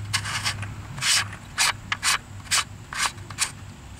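A camera lens adapter is fitted onto a fisheye lens, giving a close, quiet series of short scraping and ratcheting bursts separated by brief pauses.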